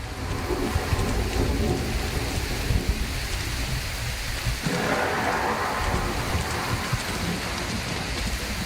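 Steady heavy rain with rolling thunder in the video game Prologue Go Wayback, a loud, continuous storm wash with deep rumbles, and no voices.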